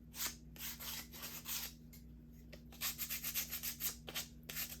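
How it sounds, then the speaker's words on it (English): Sandpaper rubbed by hand over rough, jagged saw-cut edges of small wood craft pieces, quick repeated scratchy strokes in uneven bursts, close and fairly quiet, with a low steady hum underneath. "So I'm gonna use my sandpaper, and some of my sides have kind of rough, jagged edges from where I cut them with the saw."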